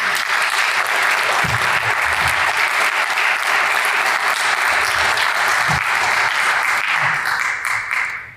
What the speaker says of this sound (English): would you please give a warm round of applause for all of our presenters